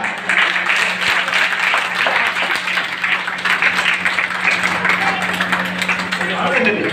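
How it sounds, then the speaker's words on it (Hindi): Dense, loud applause from a large crowd at a religious jayanti celebration for a saint, continuous throughout, with a voice speaking over it. "अरे भाई सभी तालियों के साथ"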